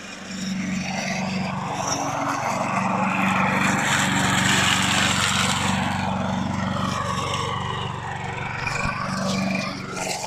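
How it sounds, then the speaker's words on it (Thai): A lawn mower engine drones steadily nearby, its low buzzing hum holding fairly constant throughout. "มันเป็นเครื่องตัดหญ้าค่ะ เครื่องตัดหญ้าที่นี่รุ่นเก่านิดนึงนะคะ แต่ใช้งานได้"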